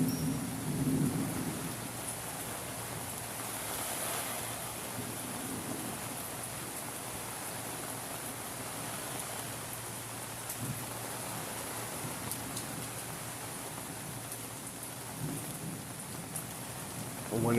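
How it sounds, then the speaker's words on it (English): A backyard thunderstorm by a pond and deck: heavy rain hisses steadily throughout, with low thunder rumbling near the start and a few other soft rumbles. "I knew it was going to rain today."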